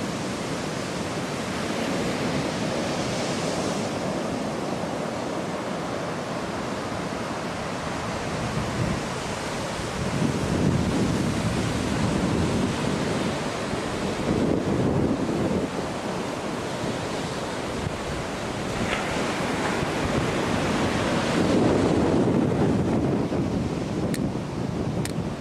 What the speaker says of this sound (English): Alright, this is the beach finally.